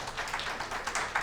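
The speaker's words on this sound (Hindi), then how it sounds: "प्लीज गाइस तालियां फॉर हर बिकॉज़ ब्रेव" Audience clapping for a guest on a talk show, a short patter of applause at steady moderate loudness with no voices on top.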